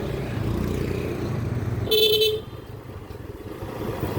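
A road vehicle's engine runs with a rough, cracked-sounding drone, steady and fairly close, broken midway by a short sharp horn toot.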